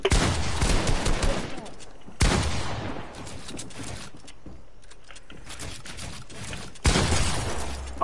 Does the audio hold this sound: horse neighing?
no